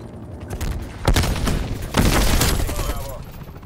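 AK rifle fire in the video game Call of Duty Cold War: two loud bursts of rapid gunshots, one near the first second and a heavier one around the second, over a busy game background.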